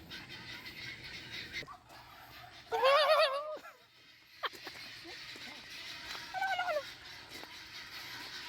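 Farm fowl, sounding like turkeys, give loud gobbling bursts during bird feeding at a glamping farm in Dolores, Quezon, with quieter calls later and a voice speaking between them.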